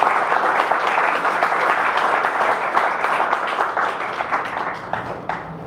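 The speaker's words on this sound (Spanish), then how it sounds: "Un fuerte aplauso para todos quienes hicieron posible este seminario." An audience at a seminar claps in sustained, dense applause that holds steady and then thins slightly toward the end, with no talk over it.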